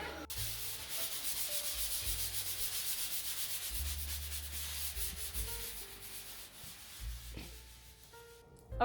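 Steady continuous rasp of wood being sanded inside a house, close and even for the whole stretch with a low droning hum underneath, no talking.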